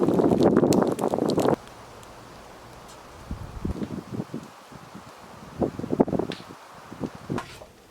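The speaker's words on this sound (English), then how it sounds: "Wind picked up too." Wind gusts hard against the microphone outdoors under darkening clouds, a loud rushing roar that drops off abruptly into quieter rustling and scattered light bumps.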